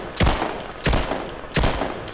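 Three loud, sharp pistol gunshots from Rise of the Tomb Raider fire at an even, unhurried pace, each with a brief echoing tail.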